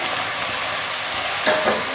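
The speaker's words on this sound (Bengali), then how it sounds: "আমি রসুন দিয়ে ভাজা করব সিম দিয়ে ভাজবো" Beans and whole garlic cloves frying in a pan give a loud, steady sizzle, with a brief burst of spattering and stirring near the end.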